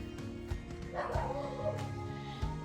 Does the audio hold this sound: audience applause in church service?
no